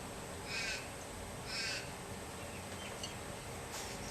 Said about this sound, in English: There's a raven out there squawking its head off